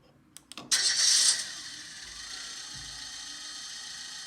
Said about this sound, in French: ça c'est le bruit d'un moteur